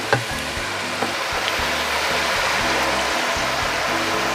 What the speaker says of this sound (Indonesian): Kentangnya setelah dipotong-potong digoreng dulu ya.